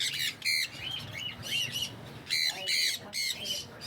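A pet bird, a breeder male with clipped wings and tail, squawks in a pet shop in Islamabad, giving repeated harsh bursts with short gaps and a faint voice underneath.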